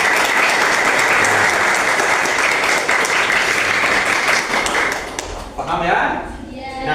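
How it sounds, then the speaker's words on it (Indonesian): Students in a mathematics classroom give two classmates a dense burst of clapping that lasts about five seconds and then fades into quieter room sound. "kasih tepuk tangan untuk mereka berdua"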